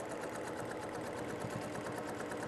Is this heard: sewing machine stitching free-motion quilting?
yes